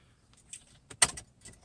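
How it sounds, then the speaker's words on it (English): Keys jangle as they are pulled from the ignition of a 2014 Chevrolet Silverado truck, a few soft metallic clinks followed by a sharper, brighter rattle burst in a quiet cab. "keys off the ignition."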